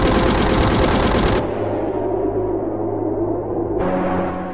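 Gunfire in the video game Gyossait: a dense, loud burst of rapid shots that cuts off abruptly, leaving a low droning tone and reverberant tail before the firing noise returns.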